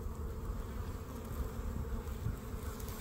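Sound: bees buzzing around a small hive

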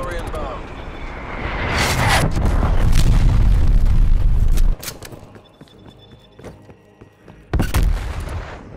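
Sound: incoming artillery strike explosions in video game Call of Duty: Black Ops Cold War

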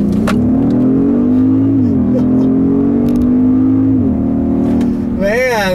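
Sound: Genesis G80 3.3 liter twin turbo V6 accelerating in sport mode

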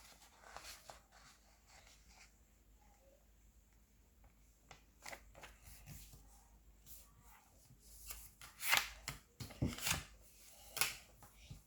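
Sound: folding a paper airplane

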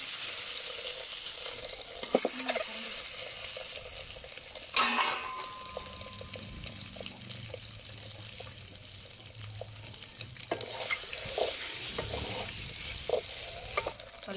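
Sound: eggs frying in oil with turmeric and chilli powder

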